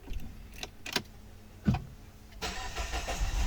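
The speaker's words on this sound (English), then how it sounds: "the car cranks just fine after we change this part over here" A Peugeot 3008 that previously would not start turns over: a few faint clicks and brief cranking bursts, then a louder engine catch that settles into a steady idle, recorded close by.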